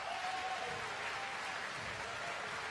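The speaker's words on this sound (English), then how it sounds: "Round of applause from the crowd." Crowd applauding at a Nova Kickboxing event between rounds of a matched bout, a steady wash of clapping throughout with a faint voice briefly over it.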